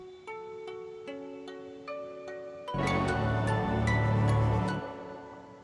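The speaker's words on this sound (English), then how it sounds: "kind of sounds like a cross between like a bell and a guitar" A synth tone with a bell-like attack and plucked, guitar-like body plays a few spaced notes, then a fuller, denser chord swells and fades.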